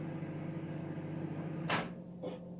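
A kitchen microwave oven hums steadily as it heats butter for mince pies, then stops with a sharp click or door clunk and a second fainter knock.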